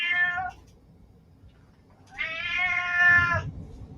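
A pet cat meows twice near the microphone, a brief call followed after a gap by a longer, louder meow, with quiet indoor background between.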